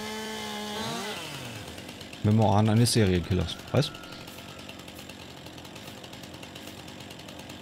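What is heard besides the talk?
chainsaw cutting trees in Farming Simulator 19 video game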